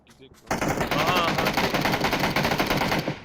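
Sustained rapid automatic gunfire in the battle-royale video game PUBG, loud and continuous bursts after a brief quiet start, with a voice faintly underneath.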